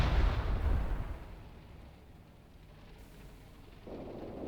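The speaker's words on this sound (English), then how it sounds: "There comes the next incendiary shell." An incendiary artillery shell bursts in the Graviteam Tactics Mius war game, a deep booming blast at the start that rumbles and fades into a low, quiet background, with a softer thud returning near the end.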